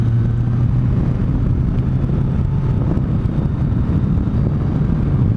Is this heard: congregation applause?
no